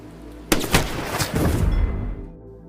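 A few sharp sniper gunshots crack in quick succession in a film, followed by a rumbling, echoing tail that fades out.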